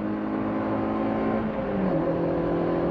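A race car on the track at Thunderhill runs through a turn with a steady, droning engine note that climbs in pitch as the throttle comes back on. The sound is heard from inside the car.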